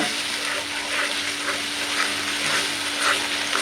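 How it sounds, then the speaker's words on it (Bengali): A masala spice paste sizzles and fries in a pan at close range, a constant hiss with no talking over it. "তো মশলাটা একটু ভালো করে কষাই দিই"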